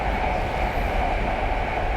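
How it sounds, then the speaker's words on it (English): A train rushes past near the ZhaoQing high-speed rail station in China, a continuous loud broadband roar of rolling wagons without pauses or voices. "We have another train heading past."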